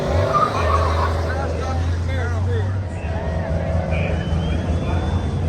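Tires of a Chrysler Town & Country minivan squeal and skid as it warms them up before a race, loud and continuous over a strong engine drone, with someone talking over it.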